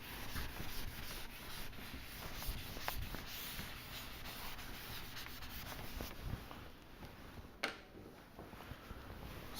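Steady scrubbing and rubbing of an eraser across a lecture-hall board, continuous and moderately close, with a sharp tap near the end.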